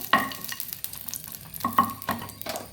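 Red chillies frying in coconut oil, with soft crackling sizzle broken by a few sharp spatula scrapes and clinks against the pan, close and fairly quiet.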